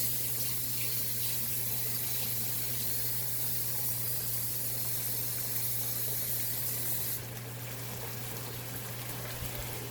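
Water running steadily into a pot of gravy, a constant close hiss and gush that continues throughout, with a low electrical hum beneath.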